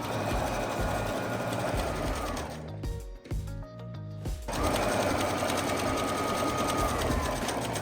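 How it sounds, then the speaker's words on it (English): A sewing machine stitches fabric along a 5/8 seam guide, running loud and steady with a rapid mechanical whir, briefly pausing midway before resuming at full speed. "Now I put the fabric right underneath the presser foot and right along the guide."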